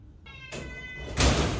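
Domestic cats meow at home, two short rising calls in quick succession close to the microphone, followed by a brief burst of rustling noise.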